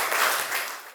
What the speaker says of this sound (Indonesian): Tepuk tangan untuk diri.